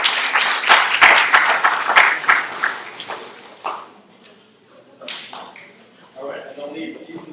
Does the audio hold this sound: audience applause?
yes